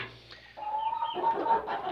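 Light Sussex chickens, one rooster and three hens, clucking close by, a quiet start followed by a steady run of overlapping clucks and calls.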